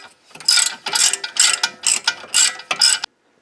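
A hand ratchet clicks rapidly in six or seven close, loud bursts while loosening a bolt on a Subaru bellow boot from the 1990s, then stops abruptly.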